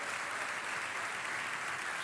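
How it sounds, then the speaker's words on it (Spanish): Congregation clapping in a church service, a steady, even wash of applause lasting a couple of seconds, moderately distant and without distinct talk over it. "Aplauda al Rey soberano"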